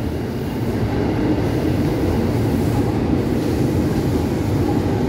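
A 10-car commuter train bound for Bogor rolls into track 2 at Gondangdia station, Jakarta, with a steady, heavy rumble of wheels on track, loud and continuous throughout.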